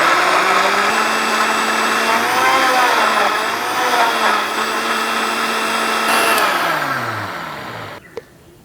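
A blender whirs loudly and steadily with a high motor whine for about eight seconds while mixing a shake, then winds down and stops, followed by a faint click.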